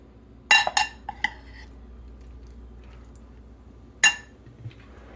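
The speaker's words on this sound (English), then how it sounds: "Okay, we got a big glop of sauce here. Just stir it in." A utensil stirs sauce into mushrooms cooking in a pan. Three close, bright clinks against the pan come in quick succession, then a single clink follows after a pause over a quiet background.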